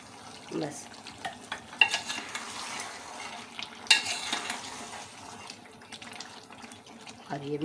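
Eggplant masala with soaked tamarind stirred in a pan, scraping and sizzling steadily with watery, splashy texture throughout, a few sharper clinks of the spoon against the pan rising above the cooking noise.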